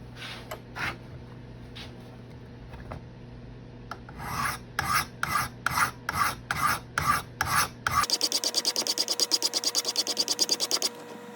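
Steel blade of a CRKT M-16 knife stroked against a sharpening stone while forming the bevel: slow, evenly spaced rasping passes give way to a fast, steady run of short scrapes, close and clear with no talk.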